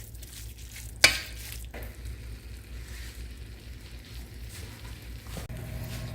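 A spoon stirs seasoning with a little liquid in a kitchen, a soft continuous scraping and swishing with one sharp knock near the start, quiet and close.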